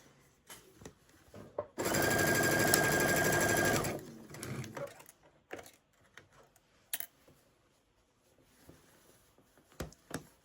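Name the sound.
Baby Lock Chorus sewing machine stitching a sweater seam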